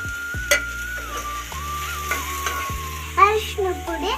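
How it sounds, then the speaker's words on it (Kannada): Ridge gourd pieces hit a hot pan and are stir-fried, with a steady loud sizzle, repeated metallic scrapes of a spatula against the pan and a few clatters, close and without any talking. "ಇವಾಗ ನಾನು ಹೇಳಿದ್ನಲ್ಲ ಸೈಜಷ್ಟು ಹೀರೆಕಾಯಿ ಹಾಕ್ತೀನಿ"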